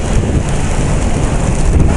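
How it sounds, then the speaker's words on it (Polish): Loud, rumbling wind buffets the microphone continuously while riding a KTM motorcycle, a low roaring gust with no voices. "teraz nagle taki troszkę bardziej wiatr"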